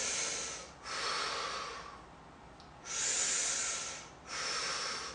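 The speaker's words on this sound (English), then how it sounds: "I am going to breathe. And I kind of settle with each out breath" Slow, deep breaths out during an energy-balancing exercise, three or four long hissing exhales close to the mic, separated by brief quiet gaps, no talking.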